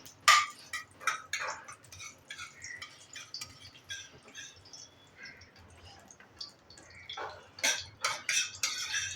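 Dry date powder roasting in ghee for methi ladoo, stirred with a spoon that repeatedly clinks and scrapes against the pan in close, irregular bursts with no talk.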